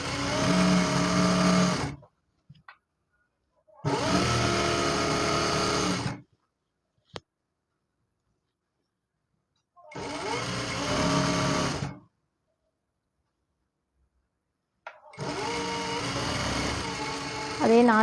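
A sewing machine stitches a gathered pant in four loud, steady bursts of whirring, each about two seconds long, separated by silent pauses, close up.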